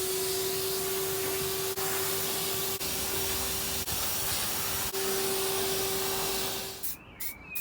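A Henry vacuum cleaner runs with a steady close whine and hiss throughout, a few faint clicks along the way, and the motor winds down at the very end.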